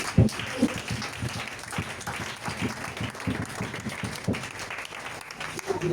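Congregation applauding and cheering for Jesus at a French-language church service, a dense sustained wash of clapping with scattered louder claps and voices mixed in, steady throughout.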